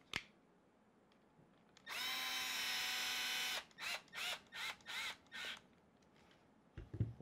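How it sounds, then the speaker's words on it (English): A power driver runs a thread-locked screw into a chassis brace on a Traxxas Fiesta Rally 1/10 RC car: one steady whirring run of about two seconds, then six short pulsed bursts, all close and fairly quiet, with no talking. "Take one of your screws with thread lock on it, and you're going to screw it."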